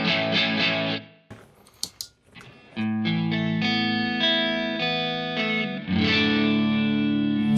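Electric guitar run through stacked analog overdrive pedals with a slight edge of breakup, sustained chords and ringing notes with a brief gap of picked single notes, loud and close.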